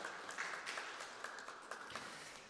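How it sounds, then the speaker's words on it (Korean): Faint, distant applause from a church congregation celebrating birthdays during a Sunday service: a soft, even patter of many hands clapping together for a few seconds. "다시 한 번 더 박수 부탁드리겠습니다."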